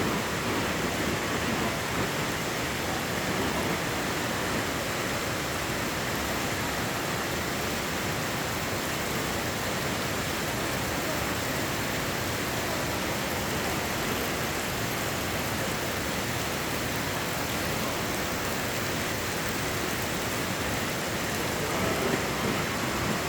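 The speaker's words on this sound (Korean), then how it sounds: "비가 와가지고 와 물이 어마어마하게 흐르네요" After rain, heavy water rushes inside Hwanseon Cave in Samcheok as a dense, unbroken roar of flowing water and spray, loud and steady throughout.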